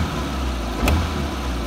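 Maruti WagonR or Alto car engine idling just after a cold start with slightly raised revs, a steady low rumble heard close up with no talking.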